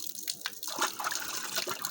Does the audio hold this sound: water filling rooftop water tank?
yes